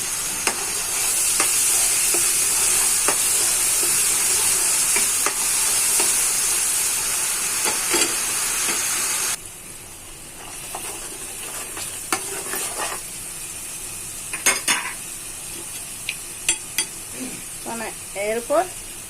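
Ginger and garlic paste frying in a pan, a loud steady sizzle that drops away partway through, then intermittent scraping and stirring clatter with occasional faint voice.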